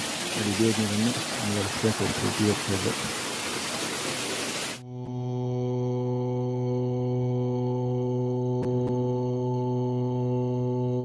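Water flows at the Akasha Ganga sacred spring in Tirumala, a dense, rushing wash heard close. Voices murmur beneath it for about five seconds, then the sound cuts abruptly to a steady tonal drone.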